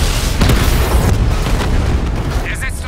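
Tanks exploding in the video game Batman Arkham Knight: a dense, loud rumbling boom rolls on without pause, heavy in the low end, with a faint higher electronic chirp near the end.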